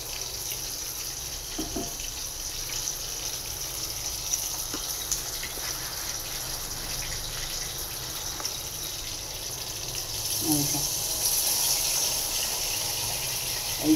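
Water is poured steadily into a cooking pot of fried chicken kabab pieces, a continuous rushing stream that grows a little louder toward the end, with no talk.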